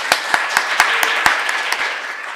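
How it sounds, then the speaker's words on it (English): A small audience gives a round of applause to thank a family foundation sponsor at an arts education event, with sparse, distinct claps at a moderate distance. "I'd like to give them a round of applause."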